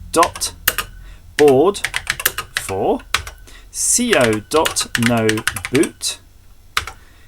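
Commands being typed on a BBC Master computer keyboard, with scattered key clicks mostly buried under someone talking steadily and close throughout.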